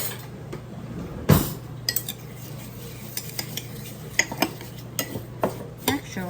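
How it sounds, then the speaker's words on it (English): A homemade plantain salve mixture is stirred in a container, with repeated utensil scrapes and light clinks against the sides over a quiet background hum, one louder knock near the start. "And you want to mix it around real good"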